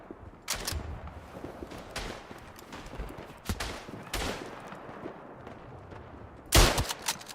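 Rifle gunshots in the WWI shooter Tannenberg on the eastern front, several separate sharp cracks spaced seconds apart with echoing tails, the last one loudest and closest, over a quiet battlefield murmur.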